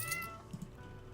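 A house cat gives a short, soft meow indoors, faint and brief against a quiet room.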